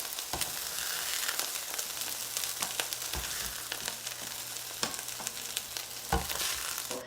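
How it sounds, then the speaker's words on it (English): Hamburger patties brown in a frying pan with an even, moderately quiet sizzle that runs throughout, broken by a few sharp clicks and scrapes. "I'm gonna get this other batch over here browned up as well."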